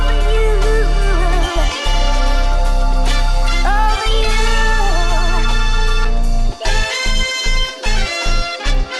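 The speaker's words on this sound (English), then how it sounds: "it's gonna give me this like really thick bass" Thick layered bass from a sub bass stacked with three Moog synths rumbles loud and heavy beneath a busy chopped-sample beat, with gliding melodic lines above and choppy rhythmic gaps toward the end, with no voices.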